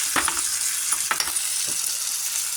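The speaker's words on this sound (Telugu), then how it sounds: "నేను వేస్తున్నాను కొంచెం కాజు కూడా వేసి ఇంకొక 2-3 మినిట్స్ కొంచెం ఫ్రై చేయాలి." Cashews sizzle steadily in a pan of masala for malai veg paneer, with a few soft scraping stirs cutting through the continuous hiss.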